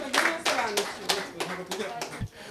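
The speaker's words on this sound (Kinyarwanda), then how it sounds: "Nimukomere Yesu amashyi." A church congregation applauds together in a few loud, rhythmic bursts of clapping, close and lively, with a voice briefly audible among them.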